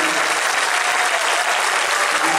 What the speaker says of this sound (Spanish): Ese aplauso me va a llenar de energía.